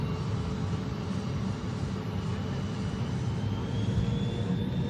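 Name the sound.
Boeing 777 airliner taking off from runway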